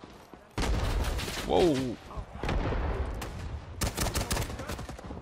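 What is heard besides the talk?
rifle gunfire in the video game Rising Storm 2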